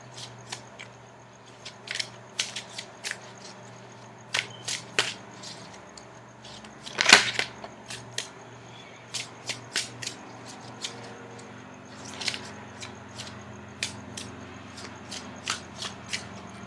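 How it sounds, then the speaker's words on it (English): Tarot cards being shuffled by hand in a quiet room, a run of crisp riffling flicks and soft slaps spread over about seventeen seconds, with one louder snap midway. "Now I'm going to shuffle for the outcome card."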